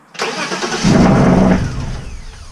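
A BMW E36 engine fitted with individual throttle bodies starts with a sharp catch and settles into a loud, close, raised idle that gradually eases down.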